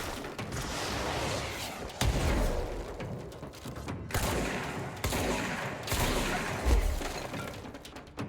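A shotgun fires repeatedly in the game Control, booming blasts roughly a second apart with debris shattering and mechanical clatter between them, loud and close.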